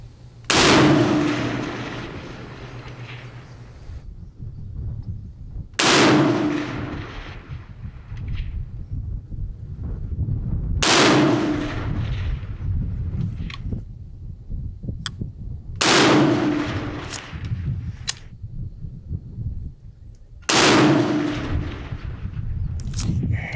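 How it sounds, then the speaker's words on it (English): Five sharp 6mm ARC rifle shots fired at distant paper and steel targets on an outdoor range, evenly spaced about five seconds apart, each loud crack trailing off into a rolling echo over faint wind rumble. "There we go, 5 shots."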